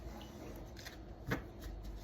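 Tarot cards being shuffled by hand, giving a soft, faint riffling rustle with one brief sharper snap midway, quiet and close with no talk over it.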